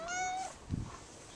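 A cat gives one clear, drawn-out meow, close and fairly loud, followed by a short low murmur, with no talking over it.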